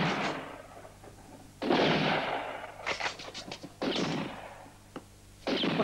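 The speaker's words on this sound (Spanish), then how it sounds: "¿Qué hacen esos malditos bastardos? ¿Por qué no disparan? ¡Disparad! ¡Disparad!" Gunshots in a western film ring out as several loud, reverberant blasts, some single and some in quick clusters, separated by quieter gaps with no talking.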